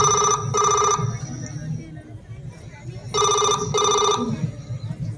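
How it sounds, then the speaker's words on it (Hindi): A telephone rings in two double bursts during a school Republic Day skit, a pause between them, with a voice and a faint hum of room sound underneath. "किसी का फोन आ रहा है"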